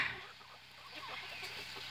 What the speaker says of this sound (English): The hen is challenging a rooster.